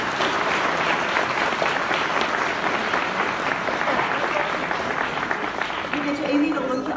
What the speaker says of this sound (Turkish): Şöyle kocaman bir alkışla başlayalım mı?